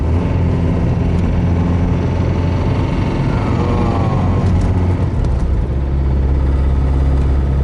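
A Mitsubishi car engine revs with added gas, a loud, sustained low rumble that swells slightly toward the end, recorded close by without talk.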